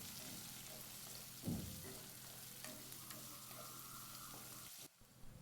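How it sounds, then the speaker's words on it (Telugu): Sliced onions and green chillies fry in a pan with a soft, steady sizzle and a brief stirring scrape, heard close and quiet without talk. "ఈ ఆనియన్స్ నిదానంగా గోల్డెన్ బ్రౌన్ కలర్ వచ్చే వరకు ఫ్రై చేసుకోవాలి"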